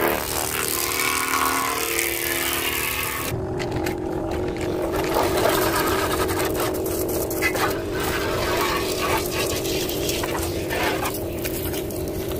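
A homemade portable high-pressure washer for a bike or car is switched on partway through, after a quieter stretch. It settles into a steady, droning motor hum with a rough, buzzing edge, close and continuous to the end.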